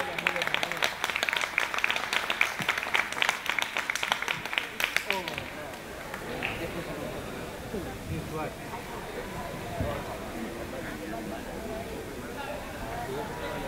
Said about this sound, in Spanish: Un fuerte aplauso también para ellos